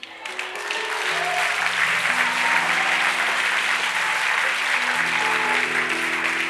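A church audience at a sermon claps in steady, sustained applause that swells in within the first second and carries on loudly throughout, with faint held organ-like tones underneath.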